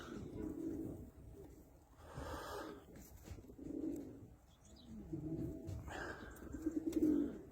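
Pet play pigeons, with their newly grown young, give soft repeated coos in several short bursts, close by, with faint rustling between the calls.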